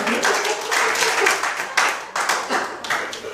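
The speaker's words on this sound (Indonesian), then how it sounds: "tepuk tangan buat teman-teman" Lively applause from a group of colleagues at an agency meeting, loud close clapping in uneven bursts that swell and dip, with a few voices mixed in.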